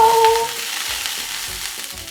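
Vegetable oil sizzling in a pan heating on medium heat for bread rolls, a steady close frying hiss with a faint tone at the very start and no talk.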